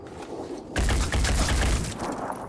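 Shotgun fire in the tactical game Phoenix Point, a dense burst of booming blasts arriving abruptly after a quieter stretch and rolling on for over a second before tailing off.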